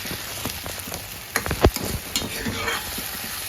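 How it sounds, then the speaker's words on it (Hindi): Chopped tomatoes go into a pan of sizzling finely cut onion and garlic tempering, with a soft crackling fry, a sharper hiss as they land, and light stirring scrapes; no talking. "ये प्याज और लहसुन हमारा बारीक जो था वो पक गया है। अब इसमें हम टमाटर डाल देंगे।"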